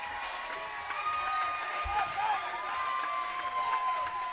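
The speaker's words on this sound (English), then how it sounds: "you start to hear the Worth County fans starting to cheer" Worth County fans at a high school boys basketball game in a gym, crowd noise swelling into cheering with sharp squeaks and thumps, under ongoing commentary.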